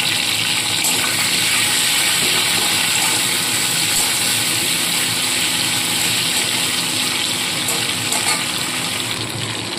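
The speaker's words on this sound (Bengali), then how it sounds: "তেলটা খুব ভালো মতো গরম করে নিয়ে মাছের মাথাগুলো ছেড়ে ভেজে তুলে নেব" Hilsa fish heads fry in hot mustard oil, giving a loud, dense sizzle that holds steady and close from start to finish.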